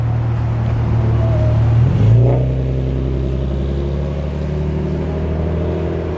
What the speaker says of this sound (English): And then here's an NSX with Acura badging. Oh, he's gonna back up right here.